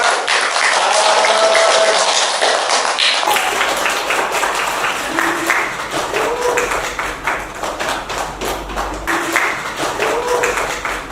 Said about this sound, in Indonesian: Oke, ya bagus sekali, tepuk tangan buat